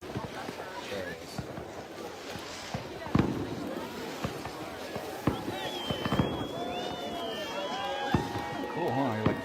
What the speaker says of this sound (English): You're just shooting at fireworks as you're skiing underneath them.